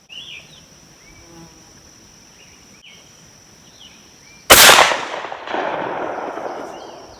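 A single loud 20 gauge shotgun blast firing a reloaded pellet slug at an outdoor range, ringing off sharply over a steady background of chirping insects.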